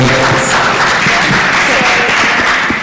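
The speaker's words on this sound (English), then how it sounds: "Round of applause for all of them." An exhibition audience gives a round of applause, a loud, dense wash of clapping that fills the space steadily throughout, with faint voices mixed underneath.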